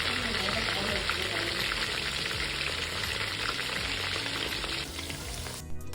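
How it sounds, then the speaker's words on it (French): Chicken pieces, and plantains, frying in hot oil for Cameroonian poulet DG, giving a loud, steady, close sizzle with crackling bursts that fades near the end into brief clatter. "on va passer à la friture"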